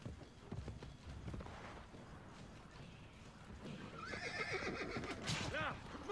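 A horse whinnies loudly near the end in Assassin's Creed Brotherhood, with hoofbeats clopping beneath a busy mix of game sounds and background chatter.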